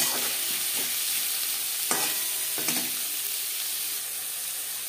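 Chopped onions and tomato fry in a pan with a continuous close sizzle. Two sharper scraping stir strokes stand out midway, and no one speaks.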